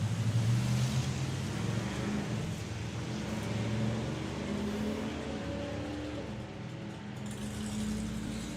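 A drag racing car, a Willys in the Willys Wars class at Dragstalgia 2025, accelerates away down the strip, a fairly distant, moderate engine roar with rising pitch sweeps that slowly fades, with no voices.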